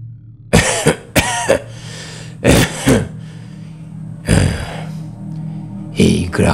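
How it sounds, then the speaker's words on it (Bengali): An old man coughs and clears his throat several times in a row, loud and close, with harsh bursts separated by brief pauses over a low steady background hum. "এই বলে একটু কেশে নিয়ে সে বলতে শুরু করলো"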